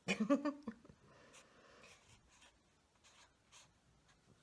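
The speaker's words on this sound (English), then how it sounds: "I'm trying to write childlike." A pen scratches out handwriting in an art journal, faint and close, with a louder rustle at the start followed by soft intermittent strokes.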